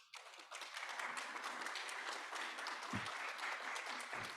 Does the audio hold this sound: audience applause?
yes